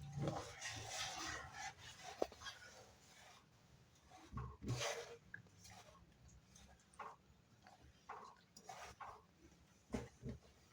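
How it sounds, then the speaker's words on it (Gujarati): A spoon scrapes and stirs jaggery and oil in a pan while making peanut chikki, with soft intermittent rubbing and occasional knocks against the pan, quiet and close. "હવે થોડીક વાર હલાવું એટલે ગળ ને તેલ બે હરખું મિક્સ થઈ જાય"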